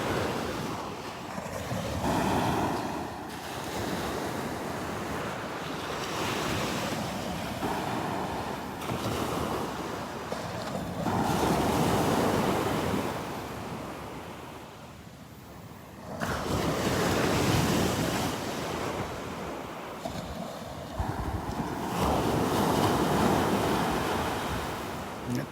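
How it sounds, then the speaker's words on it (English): Ocean surf at Delnor-Wiggins beach with the tide coming in: waves break and wash ashore continuously in broad, rolling surges, mixed with wind noise on the microphone, with no voices. "The tide is coming in here"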